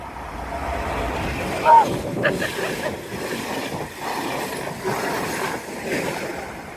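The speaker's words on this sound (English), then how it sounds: "I think this is probably an express train. Doesn't look like it's slowing down." An express train rushes past in Miskolc, Hungary, with a continuous roaring rumble and rattling wheels, loud and close, with a brief squeal and gusty wind noise.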